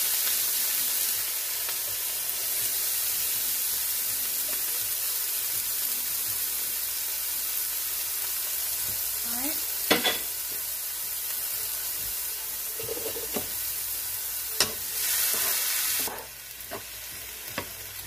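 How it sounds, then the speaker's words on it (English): Onions and peppers sautéing in a pan for a Philly cheesesteak, giving a loud steady sizzle throughout, with occasional utensil scrapes and clicks near the end and no talking. "These onions and peppers sauteing."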